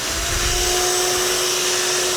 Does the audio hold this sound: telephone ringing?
no